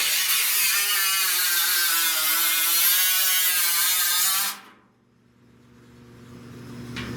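A power cutting tool bites along the bottom edge of a car's lower fender during auto body repair, giving a loud, steady buzzing whine for several seconds before it cuts off abruptly and leaves a faint hum.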